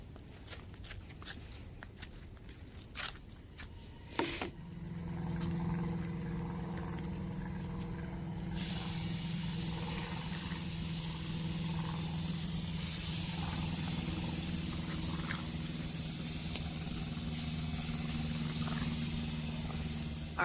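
Burgers sizzle on a grill: a steady, close hiss that starts a few seconds in, after some scattered clicks and handling noises, then swells and holds with light crackle.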